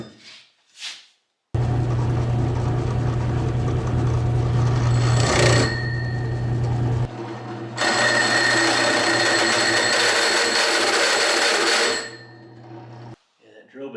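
A drill press motor hums steadily with a high whine as the bit grinds into metal, pausing briefly before drilling resumes, loud and close.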